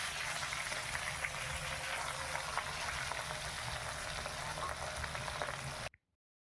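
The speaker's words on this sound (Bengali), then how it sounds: "এবার মাছটা ভেজে নিচ্ছি।" Katla fish fries in hot oil, giving a loud, continuous sizzle and crackle that runs steadily and then cuts off abruptly near the end, with no talking.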